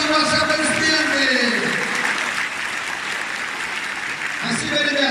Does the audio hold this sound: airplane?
no